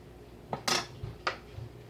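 Utensil scraping peach cobbler batter out of a mixing bowl, a few short, close scrapes and clinks with brief pauses between them.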